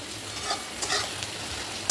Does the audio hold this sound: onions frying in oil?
yes